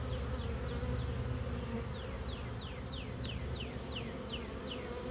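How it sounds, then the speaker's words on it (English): A dense, steady buzz of many honeybees in a hive with every frame full, a constant droning hum with occasional chirps rising above it. "Every frame is totally full of bees."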